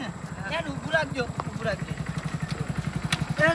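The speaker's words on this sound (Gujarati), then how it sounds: "આ બાઈક પડ્યું ને ત્યાં ઊભું રાખજો" Motorcycle pulling up and stopping, its engine idling with a steady low pulsing putter close by while people talk over it.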